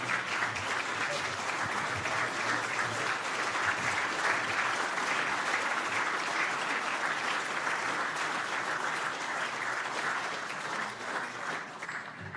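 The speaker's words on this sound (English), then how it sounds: "So let's give a big round of applause for Sergeant Major Patrick Payne and Andy Davis being a part of our military panel." A dinner audience gives a big, sustained round of applause for two military panelists, Sergeant Major Patrick Payne and Andy Davis. The dense clapping fills the room evenly for over ten seconds and eases slightly at the close.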